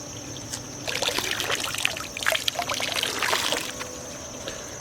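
pH chemical poured into the deep end of an in-ground concrete swimming pool, a steady close splashing trickle lasting a few seconds over a constant background hum.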